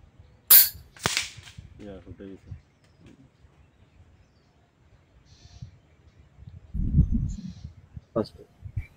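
Two sharp, loud cracks from an FX Impact M4 air rifle firing .22 calibre 23-grain Zan slugs, fired close together near the start, with people talking quietly afterward and another brief snap near the end.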